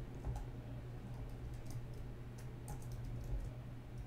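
Rapid keystrokes on a new computer keyboard, a steady run of soft clicks and ticks over a low constant hum, fairly quiet and close with no voices.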